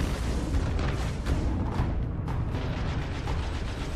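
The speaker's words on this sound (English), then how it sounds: "Oh shit, I can throw grenades or something." Dense booming blasts and rumbling explosions fill a battle in the video game Destiny, loud and continuous with repeated bursts and no clear pauses.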